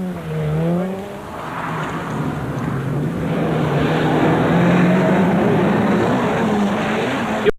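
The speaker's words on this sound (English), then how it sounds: "Jimmy McRae in the Cosworth Sierra heading for his 5th victory on the circuit of Ireland." Jimmy McRae's Ford Sierra RS Cosworth rally car on the 1987 Circuit of Ireland. Its engine note climbs briefly, then settles into a sustained, steady roar close by.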